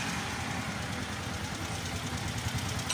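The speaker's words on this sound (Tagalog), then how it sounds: "naririnig nyo guys, medyo mataas yung aking valve clearance, kaya may lagitik" A Honda TMX125 Alpha motorcycle engine idles with high valve clearance, a steady close putter carrying a fast, light ticking from the valves, with no voices.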